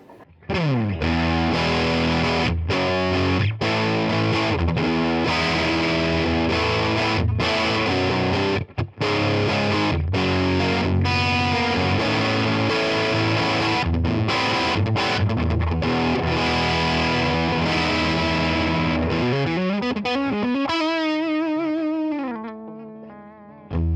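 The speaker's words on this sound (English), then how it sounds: "We're going to go over some tones using the Space Echo circuit on this." A heavily saturated electric guitar through a BOSS Space Echo tape echo pedal plays sustained chords with a dense echo trail, ending in a wobbling, pitch-bending echo feedback swell.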